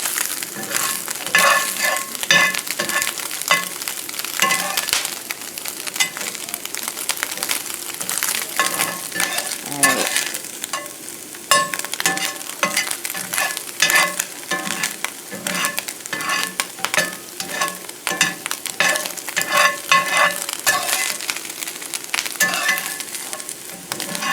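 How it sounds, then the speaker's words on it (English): Tortillas frying in fat rendered from Spam for Spam migas, a constant loud sizzle with busy scraping and stirring of a utensil in the pan throughout, no talking. "we can use that to cook our tortillas"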